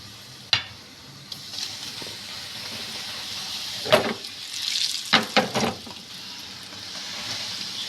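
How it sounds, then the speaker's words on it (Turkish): Small meatballs drop into hot oil in a pan with a steady hissing sizzle, broken by several sharp clinks and splutters nearby. "Bu şekilde köftelerimi kızgın yağın içine atıyorum."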